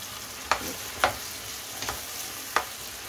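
Eggplant is stirred in a frying pan over a soft, steady sizzle, with four distinct spatula scrapes against the pan, close and moderately loud, no talking.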